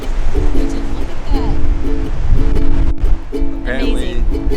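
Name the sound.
large ocean waves breaking on the shore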